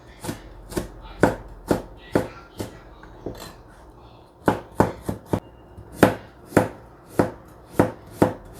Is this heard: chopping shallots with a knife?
yes